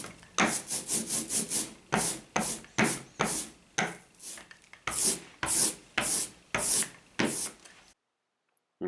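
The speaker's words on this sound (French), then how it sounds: "on va mettre un peu d'encre sur une plaque et puis ensuite l'étaler de manière régulière avec un rouleau jusqu'à ce que ça fasse à peu près ce bruit" An ink roller spreads printing ink evenly across a plate for linocut printing. Rhythmic sticky rolling strokes repeat back and forth, close and moderately loud, with no talking.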